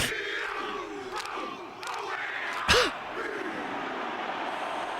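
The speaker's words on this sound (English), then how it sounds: "Listen to that fucking crowd, dude" A large crowd roars and shouts in a recording playing back, a dense, sustained wall of voices with wavering yells and one sharp louder outburst midway, continuing without pause.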